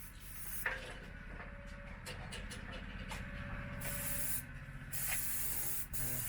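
Continuous hiss of a sprayer applying Texcote coating to a house wall during a home restoration, a steady close spray with brief pauses and short bursts.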